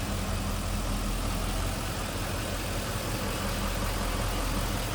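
A 1940 Ford Deluxe street rod convertible idling, a steady low rumbling engine note held evenly throughout with no talk.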